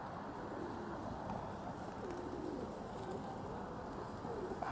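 Pigeons coo on a downtown Toronto street near Church and Wellesley, soft low warbling calls repeating under a steady wash of city background noise.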